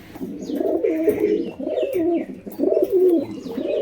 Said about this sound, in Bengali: ডাকটা দেখুন, একদম গরম ডাকের পায়রা